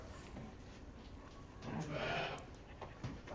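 A single faint sheep bleat rises briefly over quiet, murmuring background noise from nearby livestock.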